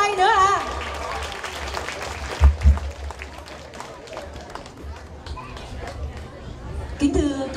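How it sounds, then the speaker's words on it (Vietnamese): Applause from a Catholic community audience at a 2016 charity variety show, mixed with crowd chatter and voices, with a couple of louder thumps near the middle and talk at the start and end. "Xin cộng đoàn cho các đàn anh ra một tràng vỗ tay nữa ạ."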